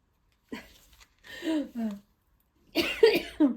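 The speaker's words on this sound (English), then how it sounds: "See, I'm coughing" Several harsh coughs come in short bursts, close and fairly loud, with brief pauses between them.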